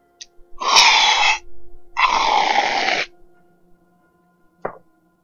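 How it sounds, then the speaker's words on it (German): Whipped cream sprays from an aerosol can in two loud, hissing, sputtering bursts, each about half a second to a second long, followed by a short final spurt, close to the microphone. "Was ihr gerade gehört habt, das war Schlagsahne aus der Dose"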